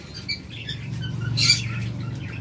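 Caged pet birds, a breeding pair offered for sale, give a few brief, fairly faint chirps and tweets over a low background hum and light patter.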